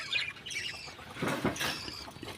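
Short, harsh bird squawks and chirps come in a couple of bursts, fairly close, with no talking.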